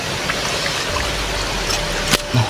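Fresh water flows in a steady, close trickling rush, with a few small splashes and a soft thump near the end.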